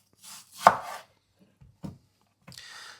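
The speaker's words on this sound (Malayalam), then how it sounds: "ഈ മാങ്ങ ഒന്ന് കട്ട് ചെയ്തെടുക്കുക" A knife chops ripe mango on a board: a few sharp, separate cuts with quiet pauses between, close and clear, no talking.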